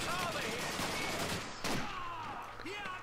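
Gunfire in Call of Duty 2 rattles in rapid bursts over a busy battlefield din, someone talking over it partway through.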